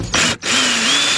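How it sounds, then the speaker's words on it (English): A power screwdriver whirs briefly, pausing once, then runs steadily as it backs a Phillips screw out of a 2011-2014 Mazda 2 door panel, close and loud with no talk. "So we get that screw out of there."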